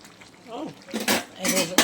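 Whole garlic goes into a pan of cooking chicken, giving a few short, close metallic clatters and scrapes that build toward the end, with a faint voice in the background.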